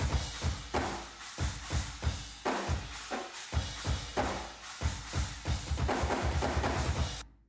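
Roomy drum kit through room microphones with trigger samples added, playing a steady beat, the kick and snare sounding big and exaggerated with heavy ambient room reverb.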